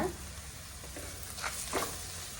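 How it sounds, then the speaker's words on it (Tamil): Chili powder masala sautés in hot oil for a goat intestine (boti) gravy, a steady close sizzle with a few brief louder spits and stirring scrapes, with no voices. "நல்லா இது இந்த பச்சை வாசனை போகிற வரை வதக்கிக்கோங்க"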